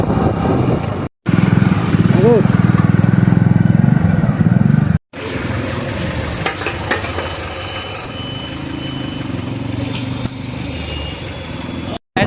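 A motorcycle engine hums steadily while riding, with a brief rising rev, wind noise and a couple of sudden cut-outs, the bike running low on fuel.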